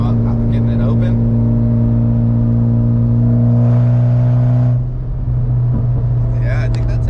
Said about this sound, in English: kind of sounds like it has an exhaust leak actually